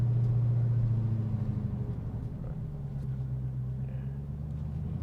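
A 2019 Dodge Challenger SRT Hellcat Redeye Widebody idles and rolls with a deep, steady engine rumble, heard from inside the car, loud and continuous with a low drone and no talk.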